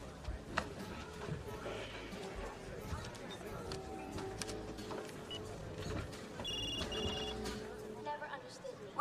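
A telephone rings on an outgoing call, with a soft repeating electronic tone over a busy background of voices and room noise.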